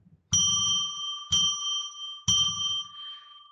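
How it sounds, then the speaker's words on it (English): A bell struck three times at an even pace, each ring a clear metallic tone that sustains and fades slowly before the next strike. "Going to ring a bell 3 times to declare sacred space."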